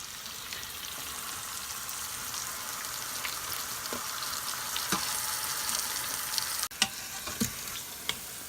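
Pork coated in spice rub browns in an Instant Pot, a steady close frying hiss with scattered pops and crackles, then a brief dip followed by a few sharper clicks near the end; no one speaks.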